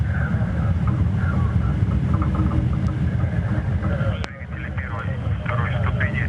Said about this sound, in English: Thrusters of stages 1 and 2 are operating nominally.